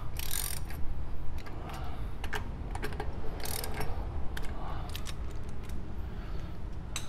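Wheel nuts on a Mk7 VW GTI being run down snug by hand with a ratchet, giving a run of light, quick metallic clicks in short irregular bursts over a steady low background hum.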